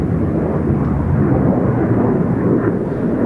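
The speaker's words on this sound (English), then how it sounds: "And now Booger is going up for the half Cubanate." An Italian Navy Harrier jet fighter climbs during an air show display at NATO Days, giving off a loud, steady, broad roar throughout with no talk.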